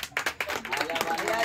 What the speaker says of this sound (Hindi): चलो ताली बजाएंगे।